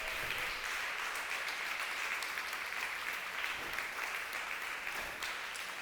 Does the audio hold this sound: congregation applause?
yes